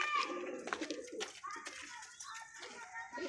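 Pigeons cooing softly in a loft kept by a Sargodha pigeon fancier, with close bird murmurs and fluttery activity mixed under background voices and household noise.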